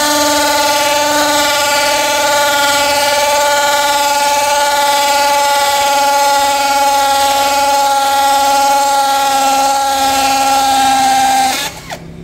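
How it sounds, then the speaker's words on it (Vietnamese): An old, dull drill bit grinds into a cement pot. The loud, steady motor whine holds a constant pitch for about eleven seconds, then cuts off abruptly. "Cái mũi khoan nó lục á, khoan hơi lâu"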